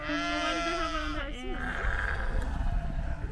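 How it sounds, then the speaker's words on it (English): Sheep bleating loudly and close by, one long wavering bleat followed by another shorter cry, with farm-yard rustle and a voice speaking briefly over the animals. "I didn't realize that sheep are so loud."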